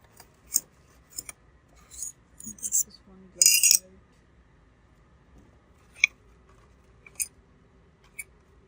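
Glass microscope slides clink and tap in short, sharp bursts while being handled during lab preparation of an organic transistor, several scattered clicks close by with quiet gaps between them.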